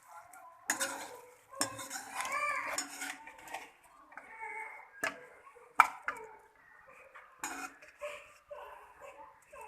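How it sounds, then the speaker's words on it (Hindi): Cooked potato and cabbage (aloo gobhi) is spooned from the pan into a pot, with a series of metallic scrapes, clinks and utensil knocks at an irregular pace, close and fairly quiet, with no voices. "अपने गोभी को जो है हम एक बर्तन में निकालते हैं।"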